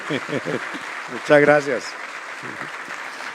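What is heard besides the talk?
audience applause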